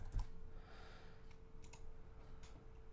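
Quiet, light clicking of keys on a computer keyboard as an email address is typed, a short run of soft taps over low room hum.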